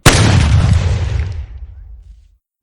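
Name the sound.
gunshot sound effect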